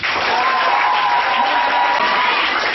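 A church congregation breaks into continuous, loud applause, with crowd voices ringing over the clapping.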